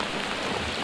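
Steady rain pouring down during a fishing trip, a dense even hiss of drops on surfaces with no pauses and no voices.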